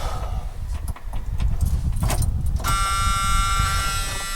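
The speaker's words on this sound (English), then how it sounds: "Wait for that buzzer to go away so you can hear what I'm saying." A steady electronic car warning buzzer starts partway through and keeps beeping, loud over a rumbling engine-like background and some clattering, in an old Ford pickup with the heater off.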